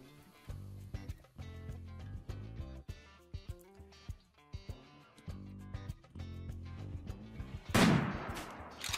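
Gunfire in the video game RimWorld bursts out near the end as a loud, dense crackle, after a stretch of game music with sharp rhythmic hits.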